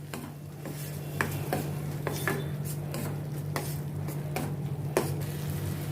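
A spoon scrapes and clinks in a cooking pan as a masala of grated peanuts, sesame and gram flour is stirred, giving soft irregular scraping strokes over a faint steady hum, with no talking.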